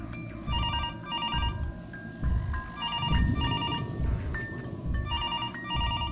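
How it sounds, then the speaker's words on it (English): A telephone rings in the horror game Mr. Hopp's Playhouse: repeated bursts of electronic ringtone chirps in a regular rhythm over a dense, rumbling game ambience, steady and fairly loud throughout. "I need to answer the phone call."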